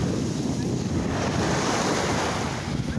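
Ocean waves wash onto a beach in a continuous loud roar of surf, with heavy wind buffeting the microphone throughout.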